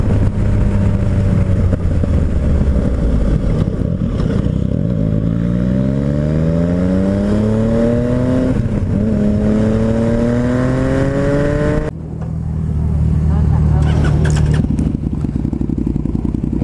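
A Yamaha MT-09 Tracer motorcycle engine revs up with rising pitch through several gear changes, loud and close, then settles to a rumbling idle before revving again.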